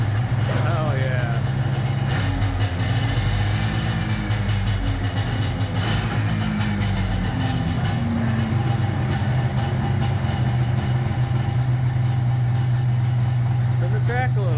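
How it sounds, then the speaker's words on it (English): A Yamaha SRV 540 snowmobile engine, a barn-find being rebuilt, starts and keeps up a steady, close idle throughout while people talk over it. "All right, Jay, fire it up. See if she fires up"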